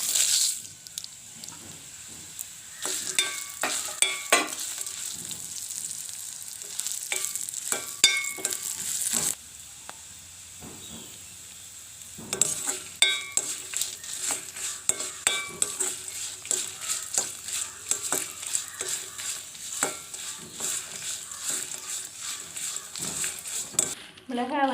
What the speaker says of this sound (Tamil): மிளகாய் வந்து பொரிஞ்சிட்டுது.